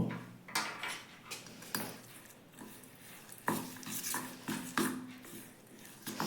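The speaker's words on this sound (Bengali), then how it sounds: "প্রথমে চামচ দিয়ে মেশাচ্ছি" A spoon stirs and beats thick medu vada batter of ground lentils with ginger paste, fennel and asafoetida, making repeated soft wet slaps and knocks against the bowl in an uneven rhythm, close up with no talking.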